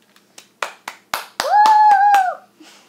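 Hands clap about eight times in an uneven, quickening series, crisp and close, followed by a sustained high vocal whoop during a children's counting rhyme.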